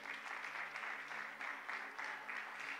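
A church congregation claps in praise of the Lord, a faint, distant applause that swells and eases in a loose rhythmic pattern.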